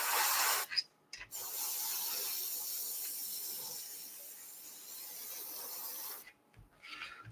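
An airbrush sprays paint onto a cosplay replica of River Song's Alpha Meson Blaster from Doctor Who, giving a steady close hiss for about five seconds between brief pauses at the start and end.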